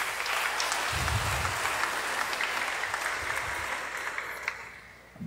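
A congregation at a Simbang Gabi church mass applauds loudly, a sustained wash of many hands clapping that carries for several seconds before tapering off, echoing in a large space.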